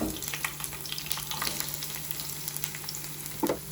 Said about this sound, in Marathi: कढीपत्ता लसूण आणि कांदा टाकला तर कांदा चांगला फ्राय करते